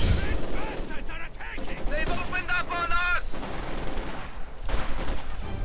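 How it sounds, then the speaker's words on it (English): Machine gun bursts with incendiary rounds and battle noise from a Company of Heroes 2 match, with rapid crackling fire across the clip and tank combat around it, under a caster's excited commentary. "Incendiary rounds from the machine gun actually ends the Panzer Grenadier's life."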